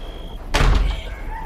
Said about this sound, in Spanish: se metió al cuarto, cerrando la puerta nuevamente.